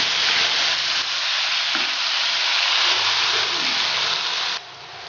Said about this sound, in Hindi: अब हम इसमें टिंडे डालेंगे। और थोड़ा सा इसको फ्राई कर लेंगे।